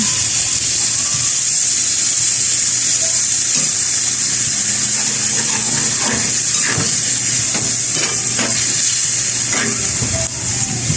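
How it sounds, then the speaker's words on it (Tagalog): Water poured into a pan of sautéed vegetables such as eggplant or squash for ginisang gulay, giving a steady hiss and sizzle with scattered clinks throughout. "Mag-add water."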